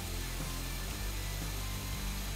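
A continuous, dense mechanical whir of a power drill boring a pocket hole into wood through a Kreg pocket hole jig's drill guide, steady throughout under a constant background roar of machinery.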